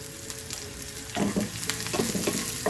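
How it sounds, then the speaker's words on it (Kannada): Finely chopped carrots and green chillies frying in oil, a steady crackling sizzle that grows fuller midway, broken by several quick spatula scrapes against the pan. "ಕ್ಯಾರೆಟನ್ನು ಚೆನ್ನಾಗಿ ಎಣ್ಣೆಲಿ ಫ್ರೈ ಮಾಡ್ಕೊಬೇಕು"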